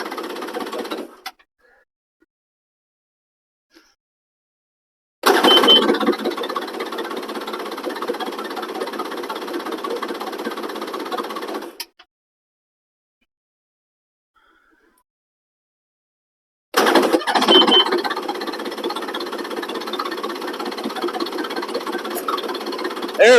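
A 2003 Yamaha XLT1200 jet ski engine running in two loud, steady bursts of about six seconds each, separated by silence, with a rough buzzing rattle throughout.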